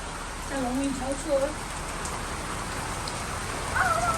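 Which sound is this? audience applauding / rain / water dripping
rain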